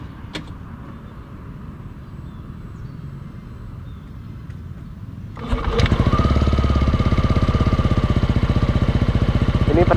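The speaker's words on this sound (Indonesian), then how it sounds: "Ini suara idle-nya ya." A Yamaha Aerox 155 scooter with a ROB1 aftermarket exhaust idles with a steady, close, putt-putting beat, quieter at first and then noticeably louder and rougher halfway through, with no talk.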